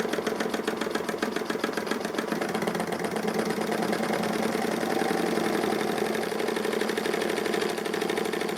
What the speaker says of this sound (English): But it runs great. Very impressive engine.